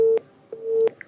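Telephone line disconnected tone on a call-in line during a broadcast: two short steady beeps, then a longer one, sounding clear and fairly loud with nothing else behind them.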